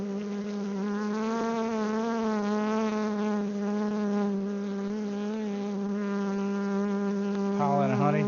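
Honey bees buzzing around a hive on a maple farm, a loud, close, continuous droning hum that wavers in pitch as individual bees pass near, with no talking.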